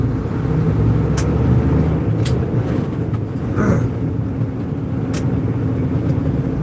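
A Kenworth W900 truck with an 18-speed transmission cruises at night, its steady low engine drone and road rumble continuous throughout, with a few brief clicks and faint rattles over the hum.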